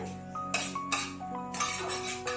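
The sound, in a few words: stirring cloves in a cooking pan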